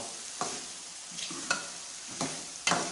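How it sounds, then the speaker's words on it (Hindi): Chicken and ridge gourd (turai) frying together in a pan, a steady sizzle punctuated by four distinct scraping stirs of a spatula spaced about a second apart, close up with no voices. "तूरी और चिकन दोनों को अच्छी तरीके से फ्राई करना है।"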